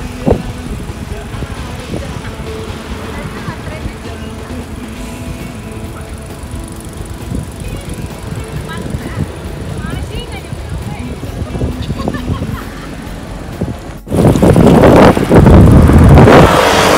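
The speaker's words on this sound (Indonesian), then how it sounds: "Gak bisa nih nembus angin begini" Strong, buffeting wind roars across the microphone while cycling into a headwind on a family ride, a constant rumble that grows much louder near the end, with people speaking over it.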